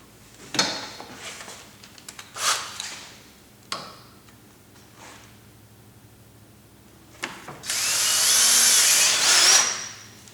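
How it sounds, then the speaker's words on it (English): A power drill bores a hole in the side of an ATV battery box during a winch install, with a few short bursts of tool noise and clicks, then a sustained loud whirring run near the end. "I'm going to drill me a hole in the side of the battery box right about here"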